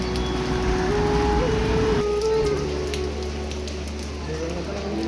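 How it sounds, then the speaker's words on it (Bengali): Rain falls outdoors near a school, a steady wash of patter over a low hum and a faint tone that drops away partway through, with no clear talk. "এখানে এখন আবার বৃষ্টি পড়ছে।"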